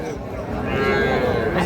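A young bull calf at a cattle market gives a drawn-out moo, loud and fairly close, with crowd chatter and market noise around it.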